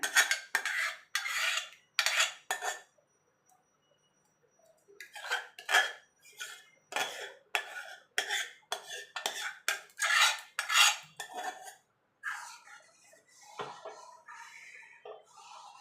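A ladle scrapes and mashes pressure-cooked rice with sugar in a metal pot for payesh, making short metallic clinks and scrapes in uneven bursts with brief pauses, fairly faint and with no talking.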